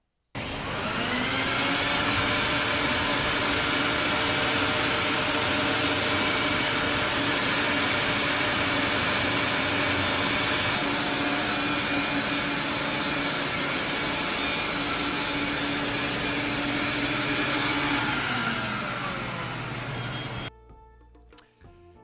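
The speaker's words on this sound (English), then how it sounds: "listen the sound of the vacuum." A loud, continuous vacuum roar with a steady whine cleaning a large antique Oriental rug, running unbroken for about twenty seconds before abruptly shutting off.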